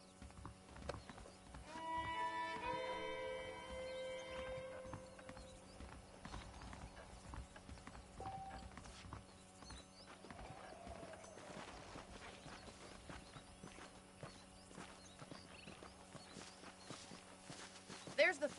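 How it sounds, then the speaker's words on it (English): Horse hooves clip-clop at a steady walking pace in the Red Dead Redemption video game, with a low ambient hum and a voice talking over them. "The horses are saddled up over here."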